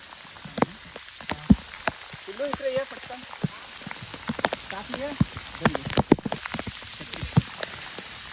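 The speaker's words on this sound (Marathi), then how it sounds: "पाऊस बघा जाम चालू झालाय." Heavy rain falls during freshwater crab catching, a dense hiss with sharp drops tapping close by. A person talks briefly over it.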